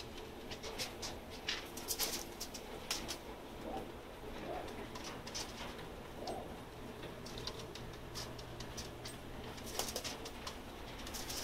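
Pigeons coo softly in a loft, low murmuring calls repeating under faint background noise, with occasional light ticking and shuffling sounds nearby.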